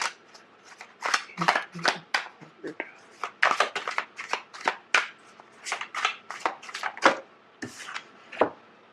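Tarot cards shuffled by hand in bursts of crisp riffling and slapping, close and fairly quiet, with a person talking in between.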